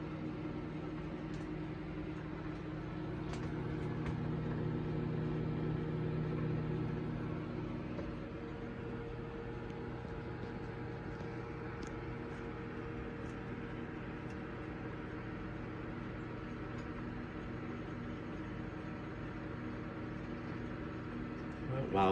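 A microwave oven runs steadily while cooking, a continuous low hum with a slight swell partway through, heard close and alone without talk.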